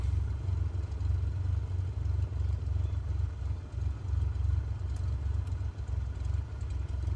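A light aircraft piston engine idles steadily at about 650 RPM in a flight simulator, a continuous low throbbing drone with a faint rattling texture and no speech.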